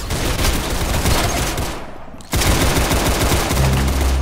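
Rapid gunfire bursts from the Roblox game Arsenal, loud and continuous, with a brief drop in the middle before the shooting resumes at full intensity.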